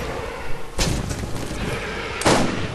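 Gunshots in the video game Borderlands, two sharp loud bursts about a second and a half apart over a constant background of game noise, no speech.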